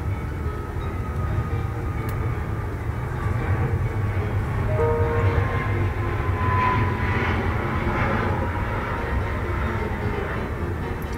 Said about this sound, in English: Airplanes are really taking off today.